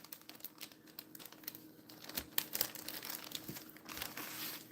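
Plastic zipper-seal bag being folded and crinkled in a home kitchen, giving faint, irregular crackling bursts close by with no talk.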